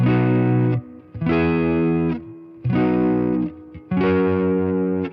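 Distorted electric guitar strumming four sustained major chords one after another, loud and close, with brief gaps between them.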